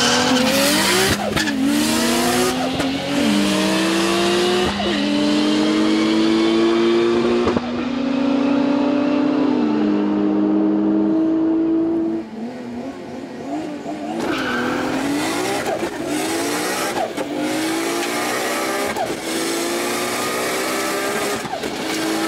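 A Nissan R32 GT-R makes a drag racing pass: loud, close engine revving climbs through several gear changes with rising pitch, tire squeal mixed in, then a steadier roar as it pulls away.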